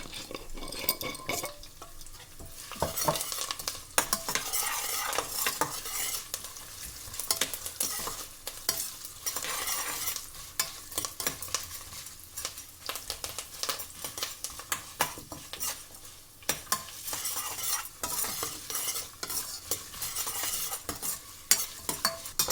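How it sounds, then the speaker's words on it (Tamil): Lentils and nuts fry in hot oil for lemon rice, with a steady crackling sizzle and the repeated scrape and clink of a spoon stirring the pan, close up and without any talk. "எல்லா கடலை ஐட்டமும் இப்போ பொரிக்கிட்டது"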